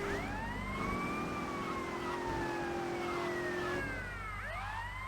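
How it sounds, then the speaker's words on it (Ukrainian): A police car siren in GTA Vice City wails loudly and steadily over an engine rumble, with rising and falling sweeps that change pitch near the end, and no voices. "А ну геть з дороги, поліція їде."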